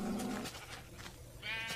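Sheep bleating in the video game Minecraft (Pocket Edition), a few wavering bleats near the start and again at the end, moderately loud and alone.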